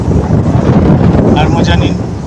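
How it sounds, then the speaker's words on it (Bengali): Strong wind buffeting a microphone on board a ship at sea, a loud continuous rushing roar with some faint higher tones near the end. "হাওয়া চলছে, জাহাজটাও চলছে আমাদের সঙ্গে।"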